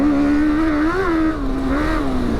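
The 1000cc engine of a long custom tuk tuk motorcycle revs up and down in a loud, close, buzzy drone, its pitch rising and dipping in a couple of quick throttle blips.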